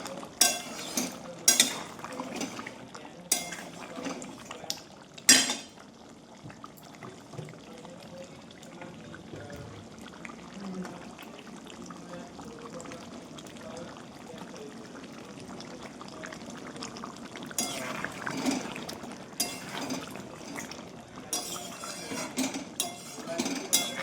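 Meat being stir-fried and turned in a pan in a home kitchen, with scattered clanks of a utensil against the pan over a steady low sizzle, busier at the start and end.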